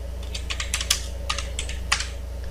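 Typing on a computer keyboard while working in CorelDRAW, a quick uneven run of close, crisp key clicks over a steady low electrical hum, with no talking.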